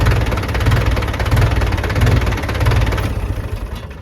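A tractor engine runs steadily in a farm field in a forest area, a loud, close, low throbbing drone with a regular pulse that goes on throughout, and no voices.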